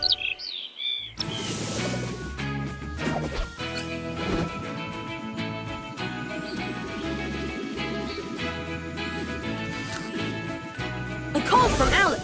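Bright bird chirps ring out in a Paw Patrol rescue video game, brief calls at the start and end over steady background game music.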